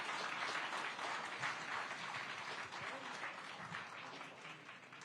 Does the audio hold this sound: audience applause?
yes